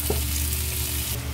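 Sautéed ingredients for mung bean soup sizzle in a pan: a close, continuous frying crackle with a brief stir.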